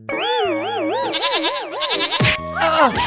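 A goat in a Hindi moral-story cartoon gives a loud, wavering, warbling bleat lasting about two seconds, followed by springy boing-like comic effects, with no talking.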